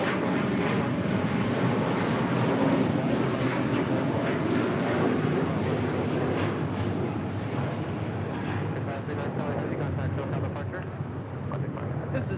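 A Qatar Airways Airbus A350-1000 jet departing LAX roars with a broad, sustained rushing thrust that holds loud and steady, mixed with wind buffeting on the microphone.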